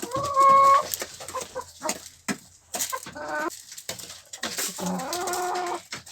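A flock of village hens, including a broody hen, clucks busily while being fed a grain mix of wheat, corn, barley, oats and millet. The cackling is loud and close, with a brief squawk and overlapping calls.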